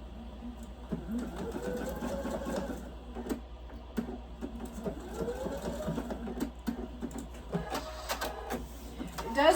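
Sewing machine stitching a quilted star wall hanging, its rapid mechanical whir coming in short bursts at moderate distance, with someone talking between and over the runs.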